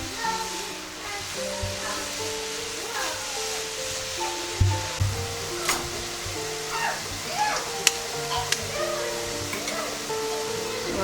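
Cauliflower florets fry covered over high heat, giving a steady, fairly loud hiss and sizzle throughout, with occasional clinks of a lid or utensil.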